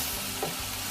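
Pork sizzling as it is stirred and fried in a pan, a steady dense hiss with a faint scrape in the middle, close and continuous.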